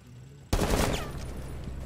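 Gunfire in Rainbow Six Siege, a sudden loud burst of rapid shots after a quiet moment, followed by a ringing, echoing tail that fades slowly.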